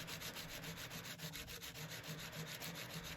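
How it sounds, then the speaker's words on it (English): Coarse sandpaper rubs steadily on a metal hollow form in quick, even back-and-forth strokes, close and continuous with no talk. "And so I'm just going to sand to finish."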